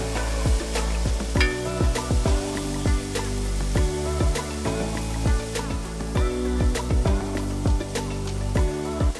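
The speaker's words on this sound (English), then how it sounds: "Now we're going to toss in a can of chickpeas." Fresh garlic and drained, rinsed canned chickpeas sautéing in a pot for a one-pot vegan lemon garlic pasta, with a steady sizzle broken by repeated sharp clacks of stirring at a fairly regular pace.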